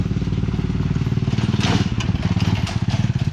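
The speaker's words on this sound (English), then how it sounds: "tricycles, which is basically a motorcycle with a sidecar, like this guy right here." A tricycle, a motorcycle fitted with a sidecar, rides along a barangay road, its engine a loud, close, steady throbbing putter that swells slightly midway as it goes by.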